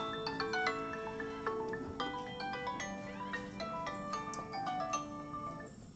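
Phone ringtone playing a steady melodic electronic tone pattern, continuous and fairly loud at close range for several seconds, with no talk over it.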